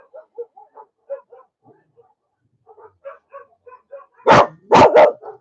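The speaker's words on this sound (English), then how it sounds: "We've got a rescue dog" A rescue dog barks at home, two or three loud close barks near the end, following a run of faint, soft chirping sounds in an otherwise quiet room.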